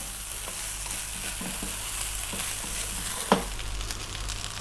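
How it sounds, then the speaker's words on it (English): Rice for a pumpkin rice dish crackles and sizzles steadily in a hot pan, close and continuous, with occasional scrapes and one sharp clack of a utensil. "That's the rice frying."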